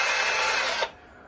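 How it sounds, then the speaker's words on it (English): A hand drill bores holes in scrap wood for a jerkbait lure, giving a loud, steady, close-up grinding whirr that stops abruptly near the end, leaving near silence. "I need to drill two more holes and yeah, get the weight stuck in them"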